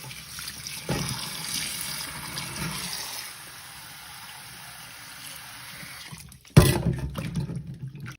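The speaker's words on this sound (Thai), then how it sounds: "ทำความสะอาดล้างน้ำล้างยางมันออกก่อน" Water runs steadily from a tap as fruit is rinsed under it to wash off sap, with a brief louder splash near the end.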